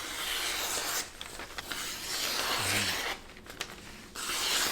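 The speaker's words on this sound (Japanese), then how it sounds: "こちら新聞切ります。" A Damascus-patterned all-stainless chef knife slices through newspaper in a few smooth, swishing rasps, close and fairly quiet, broken by short pauses and with no talking.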